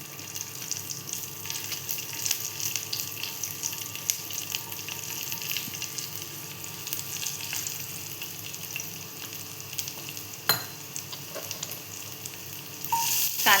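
Garlic and onion fry in a pan, a steady broadband sizzle that holds across the whole stretch, with occasional stirring clinks and a sharper pop near the end; no one speaks.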